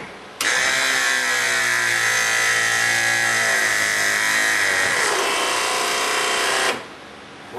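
A Meyer E-47 hydraulic snowplow pump motor runs loud and steady under load for several seconds, its electric whine strained and rough before it cuts off abruptly.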